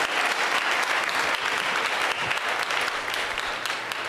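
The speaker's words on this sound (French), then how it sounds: "Bah, bon, acclamation pour ça." Dense, steady applause from a church congregation at a Haitian Creole-language pastor's service, a continuous wash of many hands clapping at close range that holds for about four seconds without pause.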